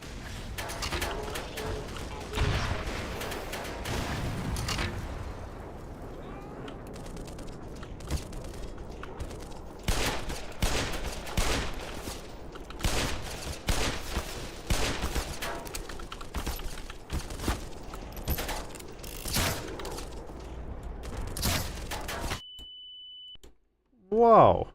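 Rocket launcher fire and explosions in the game Black Mesa, a dense run of sharp blasts and bangs under a voice talking, ending after a brief electronic beep and a short pause.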